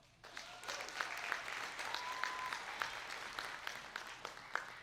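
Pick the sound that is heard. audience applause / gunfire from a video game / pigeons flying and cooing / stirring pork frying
audience applause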